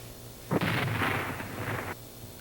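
A balloon filled with a mixture of flammable gas and oxygen explodes in a single loud, sharp blast that gives way to a roaring burst of roughly one and a half seconds, then cuts off.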